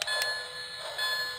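A Lionel Legacy HO Nickel Plate model train bell rings with steady, clear metallic tones, heard up close in a short burst.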